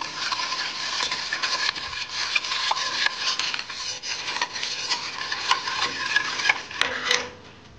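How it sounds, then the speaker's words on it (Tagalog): A spoon stirs and scrapes continuously through a pot of mouhalabieh mixture of rice, sugar and milk, producing a steady rubbing, rasping sound with occasional sharper scrapes near the end. The stirring is close and heard alone. "At halo-haloin po natin."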